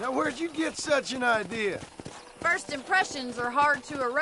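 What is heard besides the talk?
No everyday noise stands out behind the speech.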